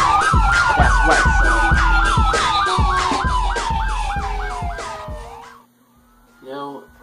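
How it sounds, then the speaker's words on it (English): Phone app playing a police siren: loud, close wailing yelp that cycles rapidly with a pulsing rhythm, then cuts off into near silence before a brief tonal burst. "Push through that traffic like a ball with the new Police Siren App"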